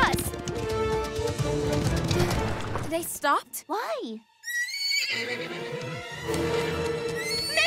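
In an animated Western adventure, a horse gives a loud, shrill whinny midway through. Before and after it comes hurried, busy action, with characters talking over the commotion.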